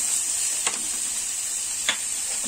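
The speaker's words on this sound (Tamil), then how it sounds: "இப்போ நல்லா வெங்காயம் நல்லா வதங்கிருச்சு" Onions sauté in a pan for butter chicken with coconut milk, giving a steady bright sizzle broken by two brief scraping stirs of the utensil.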